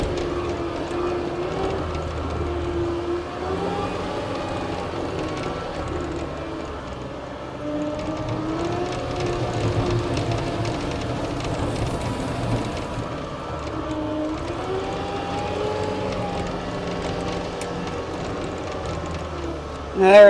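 A 2016 Caterpillar 232D skid steer, a vertical lift path machine, runs with its engine revving under the foot throttle, a steady rumbling drone that rises and falls across the whole stretch, with a voice talking over it.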